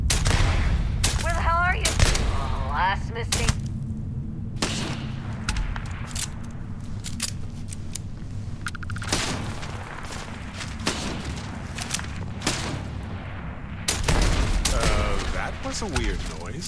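Gunfire from the Deadeye gun in Starfield, a string of sharp separate shots spread irregularly through the clip over steady game ambience, with a voice speaking between some of the shots.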